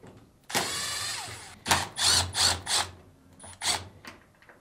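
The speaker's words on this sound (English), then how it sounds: "Now remove the two Phillips screws." Phillips screws being backed out of a Fisher & Paykel dryer, model DE62T27DW2: a sustained whirring burst from a powered screwdriver, then several short grinding spurts with brief pauses, close and fairly loud.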